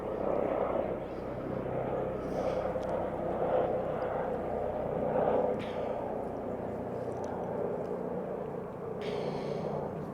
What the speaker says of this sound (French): Il y a un hélicoptère qui passe